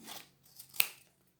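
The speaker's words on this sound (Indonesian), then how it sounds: "gunting lagi." Scissors cut paper for handmade paper flowers, making a few sharp separate snips, with one crisp cut standing out clearly, close and otherwise quiet.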